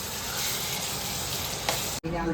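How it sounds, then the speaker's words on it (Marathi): Tomatoes frying in a pan give a steady, close hiss of sizzling oil that continues without a break through the short stretch. "आता पूर्णपणे त्यांना दोघींना प्रॉपर फ्राय होऊ देऊ"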